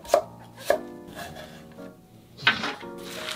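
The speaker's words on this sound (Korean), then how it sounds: "무 끝부분에 남아있는 거 곱게 채 썰어주세요" A knife finely julienning leftover radish for kimchi makes a few crisp, close chops on a cutting board, widely spaced with quiet pauses between them.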